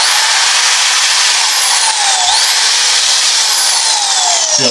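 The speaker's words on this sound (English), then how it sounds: "I'm gonna turn it all the way up and then lock it on. So when I hit the foot pedal switch" A power drill set to full speed and locked on, started with a foot pedal switch, whines loudly and steadily, its pitch dipping briefly under load before rising again, with no talking.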